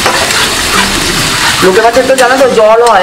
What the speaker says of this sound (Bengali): এই জলটা যতক্ষণ না শুকাবে ততক্ষণ আমি ফ্রাই করব।